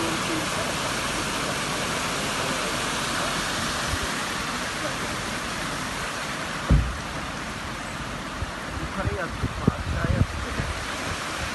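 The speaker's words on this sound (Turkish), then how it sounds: "ılgınlara akan derenin başı şu anda bu şekilde akıyor" A stream runs as a steady broad rush, fairly loud and continuous, with a few brief knocks and rustles near the end; no one speaks over it.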